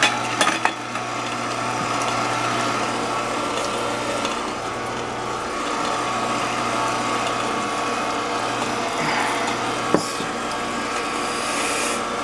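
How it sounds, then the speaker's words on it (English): A juicer presses and grinds grapes in a steady, close mechanical drone with a low hum and grinding texture, broken by a few faint clicks and knocks, with no voices. "you just follow through with the grapes getting pressed and grinded"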